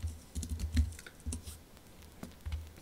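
Quick bursts of typing on a computer keyboard as a short command is entered, clustered clicky keystrokes with brief pauses between them, close and fairly quiet.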